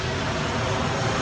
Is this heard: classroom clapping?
no